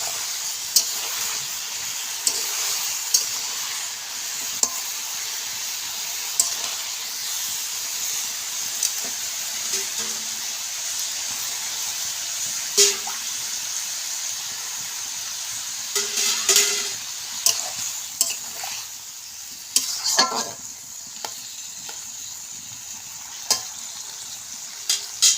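Snake gourd and fish stirred in a frying pan on a steady hissing sizzle, with repeated scrapes and clanks of a spoon against the pan at irregular intervals and no talking.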